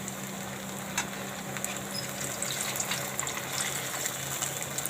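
Sabudana vada frying in hot oil, a steady broadband sizzle with faint crackles and a few louder pops, close and continuous without any talk.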